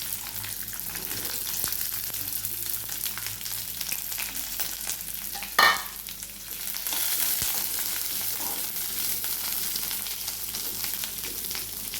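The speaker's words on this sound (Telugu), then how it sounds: "ఇప్పుడు కొంచెంగా ఆయిల్ వేసుకొని మనము ముందుగా కోసి పెట్టుకున్నటువంటి వాక్కాయ ముక్కలను వాడ్చుకోవాలి" Vakkaya (karonda) pieces sautéing in oil for a pickle, a steady close sizzle and crackle with a brief louder clatter of stirring partway through.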